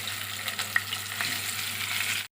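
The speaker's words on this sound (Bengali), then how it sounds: "তেলটা হালকা গরম হয়ে গেছে এখন মাছগুলো আমি ছেড়ে দেবো" Fish sizzling as it fries in hot mustard oil, a steady close hiss with a few sharp pops and crackles throughout, no voices.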